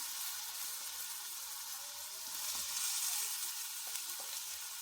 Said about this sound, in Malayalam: ഇനി ഇഞ്ചിയും വെളുത്തുള്ളി ഇടാം എണ്ണ ചൂടായി വരുമ്പോൾ